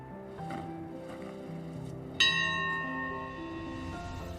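A bell being rung to make a wish in a film, one clear, bright strike with a long ringing decay over a soft music bed, following a few earlier, fainter tones.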